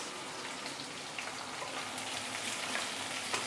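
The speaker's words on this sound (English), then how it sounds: "Now we are going to saute the prawn shell for a couple of minutes until it is a bit charred." Prawn shells sauté in a hot pan with a steady, close sizzling crackle like light rain, holding at an even level throughout with no talking.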